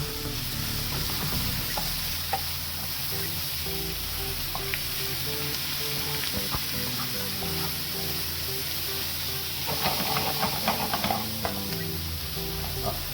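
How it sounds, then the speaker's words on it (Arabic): Bell peppers sizzle steadily in a hot pan with caramelized onions, a continuous broadband frying hiss joined by occasional clinks and scrapes of stirring, busier near the end, with no talking. "بعد كده ننزل بالفلفل بتاعنا بعد ما البصل كرمل اهو"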